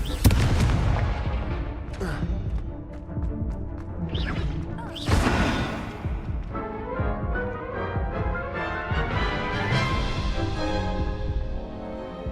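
Confringo, an explosive fire spell cast in the Hogwarts Legacy video game, bursts with several loud blasts and crashes amid continuous combat noise, layered with music and occasional voices throughout.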